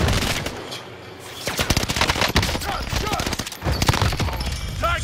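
Rapid automatic gunfire crackles through a Call of Duty Warzone match on Rebirth Island, with loud, dense bursts of shots rattling almost continuously and only a short lull near the start.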